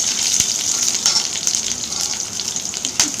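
Garlic fries in hot oil with mustard seeds and urad dal for a fish kulambu, making a loud, steady, close sizzle with a few sharper pops and crackles. Nobody speaks.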